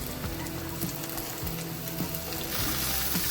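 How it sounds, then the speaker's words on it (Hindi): Tomatoes and capsicum hitting a hot pan of Maggi noodles with onion, giving a loud, steady frying sizzle that swells slightly near the end, with no voices over it. "अब हम इसमें टमाटर और शिमला मिर्च ऐड करेंगे।"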